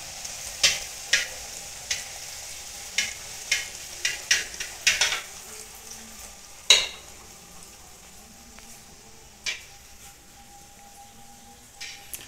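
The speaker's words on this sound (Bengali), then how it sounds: "লুচি ভাজা হচ্ছে।" Luchi puffed bread fries in oil with a low background sizzle, broken by repeated sharp clinks and scrapes of a utensil against the pan and no talking.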